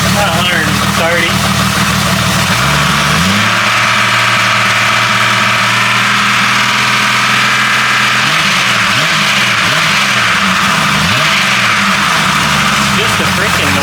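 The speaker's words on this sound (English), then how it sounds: "Just a freaking noisy motor." A noisy 4.0 engine running on pure Lucas oil additive idles steadily, with a low droning hum and some rising and falling pitch sweeps from the motor, heard close up while a person speaks over it.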